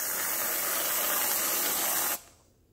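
Whipped coconut topping hisses steadily from an aerosol can for about two seconds, loud and close, then cuts off abruptly into quiet.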